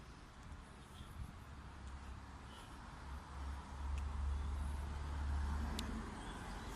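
Steady traffic noise from nearby roads drifts around an overgrown city car park, a low continuous rumble that swells midway and stays fairly faint, with a few faint high bird chirps above it.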